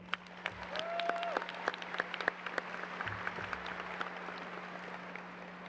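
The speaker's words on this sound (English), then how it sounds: "Let's please give them another round of applause." A graduation ceremony audience claps in a fairly faint, sustained round of applause, with scattered sharper claps and a low steady hum underneath.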